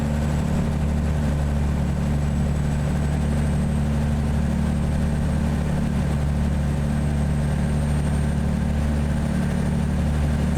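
Freightliner FLA truck engine in American Truck Simulator, a steady low, heavy drone running loud and unbroken with no talk over it.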